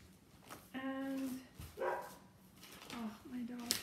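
A dog gives a few short, high barks and yips indoors at moderate distance, spaced across a few seconds.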